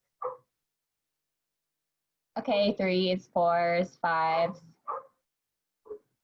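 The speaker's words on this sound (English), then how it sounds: "Sorry if y'all can hear my dogs barking." Dogs barking at a mailman indoors, a few loud, sharp barks and yips in a quick cluster with short single barks before and after, while a person speaks briefly nearby.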